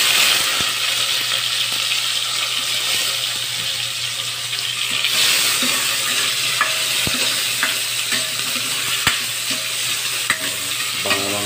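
Onion and tomato stirred in a hot pan, a steady close sizzle running throughout with scraping utensil clicks and taps, and no talking.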